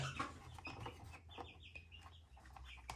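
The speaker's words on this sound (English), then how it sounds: "if you hear little chirping sounds in the background, it's because I have some baby chicks" Faint high peeping of baby chicks chirps repeatedly in the background, with light clucks and some rustling, no talking.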